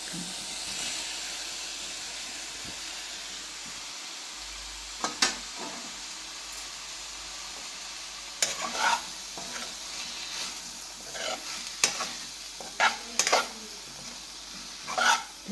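Vegetable balls fry in a pan with a steady low sizzle, broken by occasional scraping and clinking as a spoon stirs them.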